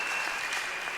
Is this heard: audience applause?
yes